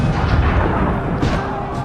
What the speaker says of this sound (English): He sends the cannons and fires.